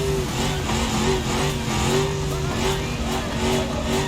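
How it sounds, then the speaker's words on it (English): A car in the BeamNG driving game, fitted with a big V8 engine in place of its usual V10 or V12, revs hard. The engine drones loud and steady, with a pulsing rise and fall. "it's got a big V8 in it instead of the V10 or V12 that it normally has."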